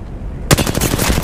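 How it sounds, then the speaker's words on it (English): Rapid automatic gunfire in the Apex Legends battle royale game, erupting suddenly after a quiet moment into a loud, fast string of close shots. "These motherfuckers are just shooting at me."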